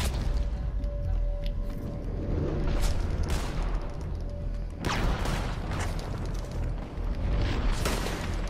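Dynamite blasts and gunfire in Red Dead Redemption 2 PvP, a dense, continuous barrage of booms and shots with a sharp loud burst near the middle, busy and close throughout.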